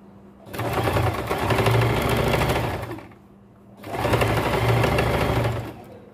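An electric sewing machine runs in two steady bursts of a few seconds each, stitching a blouse corner with a rapid whirring and needle clatter, separated by a short pause.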